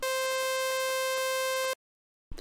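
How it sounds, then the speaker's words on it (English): A bright, buzzy chiptune sawtooth-wave synthesizer tone with dense harmonics holds steady for under two seconds, then cuts off abruptly into silence. "There's the saw wave,"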